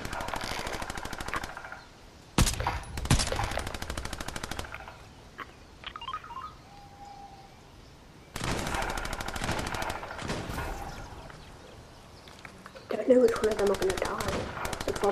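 Video game gunfire in Fortnite, rapid bursts of automatic shots in several loud runs separated by quieter gaps, with a voice talking between them.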